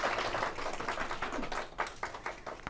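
A small group claps at a children's Bible school leaders' training session, scattered uneven hand claps that thin into a few separate claps toward the end.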